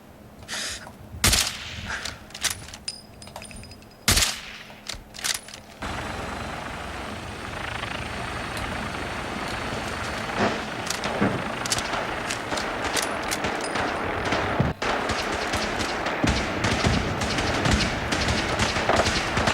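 Gunfire in Fallout 4 starts as scattered loud single shots, then turns into a dense, continuous roar of rapid fire and combat noise that keeps building.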